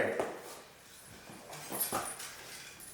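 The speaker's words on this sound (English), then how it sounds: "Even brought my dog." A dog on a rally outing makes a couple of short whimpering yips over faint background noise and rustling, fairly close but soft.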